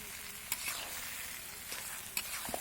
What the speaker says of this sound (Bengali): আমগুলো এখন নেড়ে চেড়ে ভেজে নিচ্ছি।